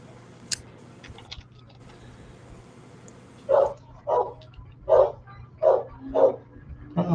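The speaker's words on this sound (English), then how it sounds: "Uh-oh, dogs barking." A dog barks five or six times in a steady rhythm, moderately close, after a quiet stretch with faint background noise.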